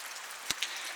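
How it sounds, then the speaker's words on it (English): Rain falls steadily at a rural homestead, a soft even hiss with a couple of brief louder drips or taps, close and alone. "It is obviously, as you can see, raining once again here today at the homestead."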